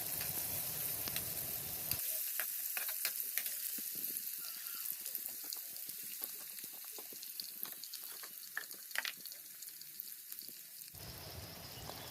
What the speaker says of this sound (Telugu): ప్యాన్ పెట్టుకొని ఒక పక్కన ఆయిల్ వేసుకొని కొంచెం జీలకర్ర, ఒక 3 రెబ్బలు వెల్లుల్లిపాయలు అండ్ ఆనియన్స్ అండ్ పచ్చిమిర్చి వేసుకొని కలుపుకోవాలి ఒకసారి